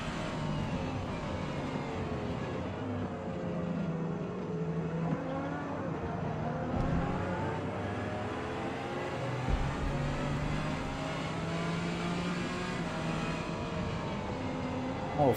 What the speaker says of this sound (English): I can hear that T50 howling from here. Such a good sounding engine.